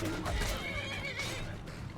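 Shadowmere, the horse in Skyrim, lets out a drawn-out whinny over low rumbling game sounds and faint hoof noise, moderately loud and filling the whole moment.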